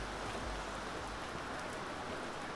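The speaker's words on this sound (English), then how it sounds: "God, this rain isn't letting up here." Steady rain pouring in the AHG! UBOAT video game, a dense, even hiss of falling water that holds constant throughout without any talking.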